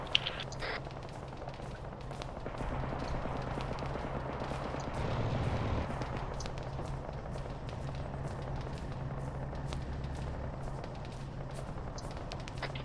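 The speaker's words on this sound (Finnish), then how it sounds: "täältä mistä kuuluu ammunta" Scattered gunshots and bursts of gunfire in a military video game battle, sharp cracks repeating irregularly over a rumbling background, some near and some distant.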